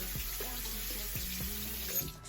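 Running tap water rinsing off a skincare product at a sink, a steady close splashing stream that fills the short moment alone before cutting off at the end.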